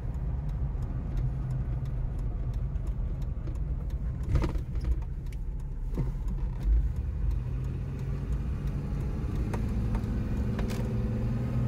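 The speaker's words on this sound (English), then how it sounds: "Bit of back roads driving." A 1990s-era Nissan Pathfinder WD21 drives along back roads, its engine a steady low rumble heard from inside the cabin with road noise, a few rattles and clunks over bumps, and no talking.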